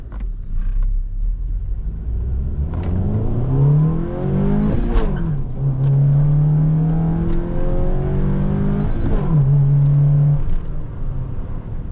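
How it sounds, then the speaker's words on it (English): A Honda Fit GK5 car driving in city mode, its engine revving up through rising, gliding tones, easing off and then climbing again at moderate volume, with whirring and creaking mechanical sounds and no talking. "This one feels like normal day-to-day driving in the Honda Fit."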